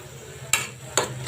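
Fish pieces tipped into spiced paste frying in a pan for a Bengali fish fry, giving two sharp bursts of sizzle over a low steady crackle, with a fainter third near the end.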